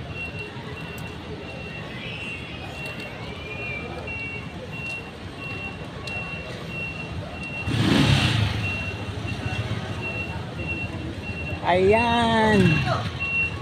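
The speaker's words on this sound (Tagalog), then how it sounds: "Mga truck na umaatras." Trucks backing up in a busy queue, their reversing alarms beeping in a steady repeated pattern over engine rumble, with a louder vehicle pass and a voice speaking briefly.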